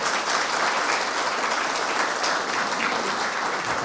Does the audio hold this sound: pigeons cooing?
no